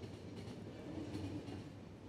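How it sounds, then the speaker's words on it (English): A worn-down experimental train runs steadily through The Final Station, its continuous low rumble of rolling wheels filling the scene at a constant level with no voices. "The train is not in great condition."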